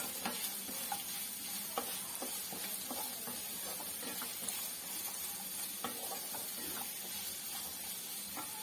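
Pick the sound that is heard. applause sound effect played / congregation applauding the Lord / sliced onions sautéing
sliced onions sautéing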